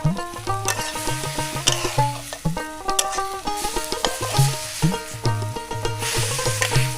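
Leafy greens (shak) cooking in a pan over a village fire, stirred vigorously: steady sizzle under repeated scraping and metallic clatter of the spoon in a busy rhythm, fairly loud and close, without talk.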